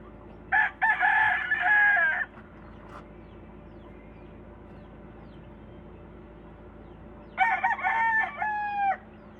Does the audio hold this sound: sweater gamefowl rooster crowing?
yes